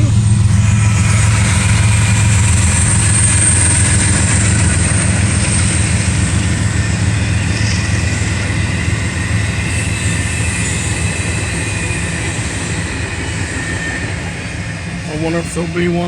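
CSX freight train rolling past trackwork, a steady, loud rumble of wheels and cars with faint high squeal, continuous throughout and gradually easing near the end.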